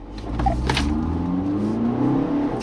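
A 2016 BMW X1 xDrive 20d pulls away for a slalom run, its engine rising in a close, steady accelerating drone with a tire or mechanical whine on top, and no talk.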